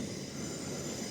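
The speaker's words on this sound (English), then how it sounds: "wish you didn't get that noise contamination in the train" A train rolls along the rails close by a castle keep in Newcastle, giving a steady, loud, continuous rumble with a low roar throughout and no voices.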